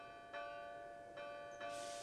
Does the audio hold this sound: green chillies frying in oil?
no